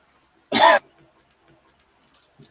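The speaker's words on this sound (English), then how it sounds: "what is this coughing?" A single sharp cough bursts out once, loud and close, at a fight-night watch party, followed by quiet room noise.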